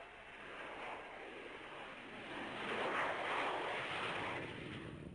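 Vickers Valiant jet bomber passing overhead, a broad roaring jet-engine wash that swells to a peak midway and then eases off, with no voices.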